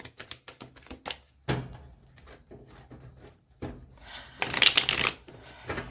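Tarot cards are shuffled by hand up close, with rapid riffling bursts and softer sliding shuffles that repeat irregularly, loudest near the end.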